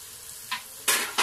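Carrots frying in oil with chicken, stirred in three short bursts of scraping sizzle, the last two louder and close, with quiet gaps between.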